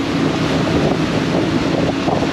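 A tour boat runs fast over the sea off Bocas del Toro, Panama, with a steady roar of wind and rushing water close to the microphone and no talk.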